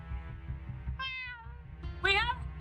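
Two short, bright meows from a video game cat, the second louder and more strained, sounding over a low steady background hum with no talking.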